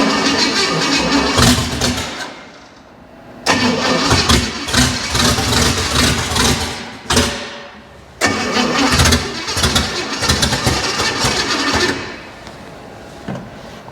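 A junkyard car engine cranks, then catches and runs for the first time in loud bursts, revving and dropping back with a few brief pauses, close and alone without talk.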